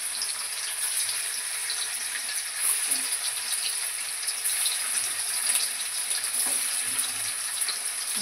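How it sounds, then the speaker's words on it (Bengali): Paneer pieces frying in hot oil, a steady bright sizzle and crackle that stays fairly even throughout with faint small pops and no voices. "এবার আমি পনিরগুলো ভেজে নেব"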